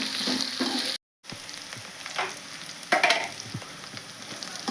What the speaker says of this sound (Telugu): ఉల్లిగడ్డ ముక్కలు అయితే బాగా ఫ్రై అయినాయి కదా